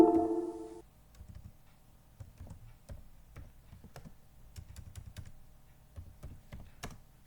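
Rapid typing on a computer keyboard, entering text into a web page editor, with a steady run of close, crisp key clicks after a brief opening tone; no one talks.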